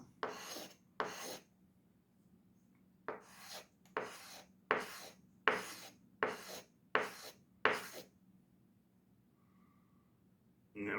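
Wet sanding a Microtech MSI knife blade to remove grind lines, a steady series of rasping strokes: a quick pair, then a run of seven even back-and-forth rubs, close and fairly quiet, with no talking.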